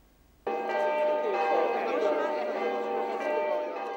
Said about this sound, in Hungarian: Az esti 6 órai harangszó hívta az újpestieket megemlékezésre